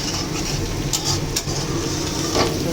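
Beaten eggs seasoned with salt are stirred in a frying pan, a steady close sizzle with occasional scraping of the spatula against the pan, no voices.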